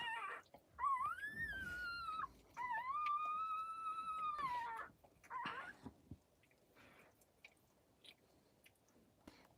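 High, thin whimpers and squeals of newborn puppies rise and fall in short bursts, close by, with soft rustling and wet chewing-like noises between them.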